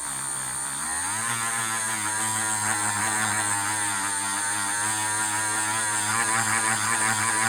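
A Dremel rotary tool spins a felt pad to buff jewelry with white jeweler's rouge polishing compound. It makes a steady, close, humming whine that stays constant throughout, with a faint rising pitch at the start.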